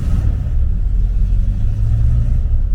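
Revving of a Rover P6's V8, an engine taken from an SD1, produces a dense, loud low-end rumble that swells and holds, recorded up close with nobody speaking.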